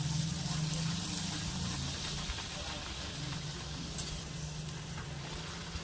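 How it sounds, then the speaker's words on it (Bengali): Luchi, puffed Bengali flatbread, frying in hot oil: a steady, fairly loud sizzle and hiss runs through the whole stretch, with a low bubbling layer underneath and no talking. "এবার লুচিগুলো ভেজে নেওয়া যাক।"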